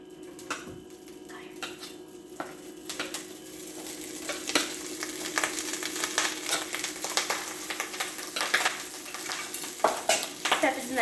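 Day-old rice is stir-fried in a pan for egg fried rice, giving a steady close sizzle with a utensil scraping and clinking against the pan throughout and no talking.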